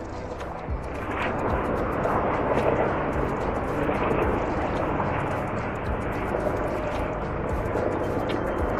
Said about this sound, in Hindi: ऊपर देखे पुलिस हेलीकॉप्टर चल रही